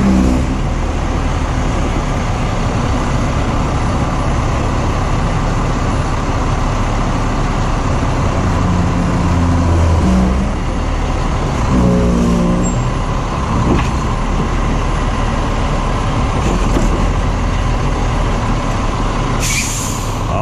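A heavy rotator tow truck engine idles steadily and loudly throughout, with a low rumbling drone and a brief hiss of air near the end.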